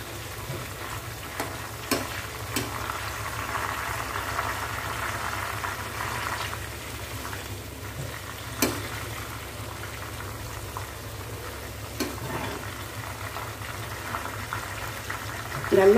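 Raw banana chips deep-frying in hot oil, a steady close bubbling sizzle running throughout with a few faint clicks of a utensil, and no talking heard.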